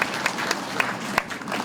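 Applause from an audience honoring two people at a Vietnamese community center project event, a steady dense patter of many hands with a few louder claps standing out, moderately loud.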